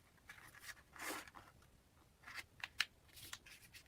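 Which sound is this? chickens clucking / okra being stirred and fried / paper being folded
paper being folded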